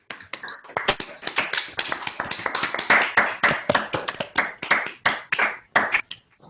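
Applause from an unmuted online audience at a research seminar: many separate hand claps from different microphones, close and crisp, overlapping in an uneven, rapid patter that stays loud before thinning out at the end.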